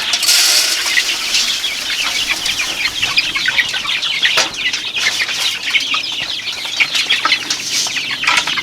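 Chickens on a farm clucking and squawking continuously, with bursts of wing flapping and scratchy movement, fairly close and busy throughout, with no talking.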